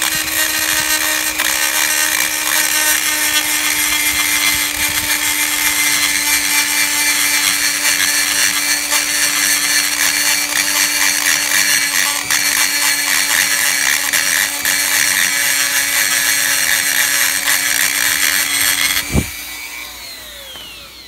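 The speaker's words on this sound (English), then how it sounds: "going over it pretty much with the Dremel size, and it smooths it out a little bit" A Dremel rotary tool grinds and smooths the inside of an LSA supercharger snout during porting, giving a steady, loud, high-pitched whine that runs continuously for about nineteen seconds before stopping abruptly.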